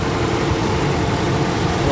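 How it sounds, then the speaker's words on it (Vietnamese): 2009 Toyota Innova engine idling close up, a loud, steady low rumble with no change in rhythm, while someone talks over it. "Máy nổ rất là êm, không rung giật một chút nào"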